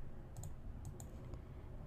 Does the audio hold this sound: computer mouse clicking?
yes